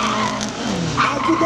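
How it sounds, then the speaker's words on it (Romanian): Tires squealing and skidding under wheelspin from a car at a drag racing event in Tulcea, a sustained loud screech with engine noise underneath, steady and close throughout the short burst. "A patinat."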